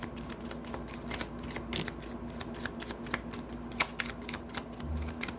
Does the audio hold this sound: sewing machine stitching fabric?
no